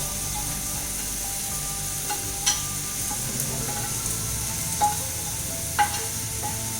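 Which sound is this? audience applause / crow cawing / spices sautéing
spices sautéing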